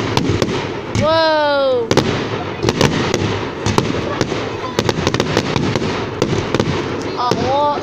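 Bonfire night fireworks display at Hardwick Hall, with repeated loud bursts and crackling pops in close succession, a whistling rising shell, and an excited crowd voice exclaiming over the noise.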